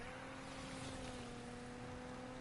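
A steady, quiet V6 car engine hum in the video game Need for Speed Unbound, with a low, even drone and no revving, holding constant throughout.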